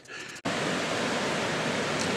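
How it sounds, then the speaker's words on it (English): Rushing water of Otter Rapids, a loud, dense, continuous roar that starts abruptly after a brief quieter moment and holds steady. "So this is Otter Rapids. You can hear the rush"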